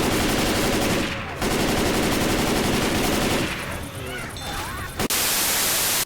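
A rifle fires rapid, loud bursts in a zombie shooter played on a Steam Controller, with a brief pause, then more firing as a voice speaks over it and a sharp burst of static at the end.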